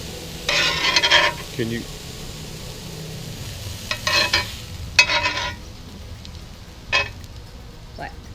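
Steak fajita meat sizzling in an Ooni pizza oven, a steady frying hiss underneath with several louder scraping, stirring bursts, while people talk nearby.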